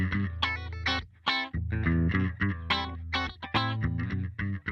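An electric guitar running through a post compressor on a POD HD/Helix plays a clean, evenly leveled melodic phrase of quick picked notes and short pauses, close and clear with no talking.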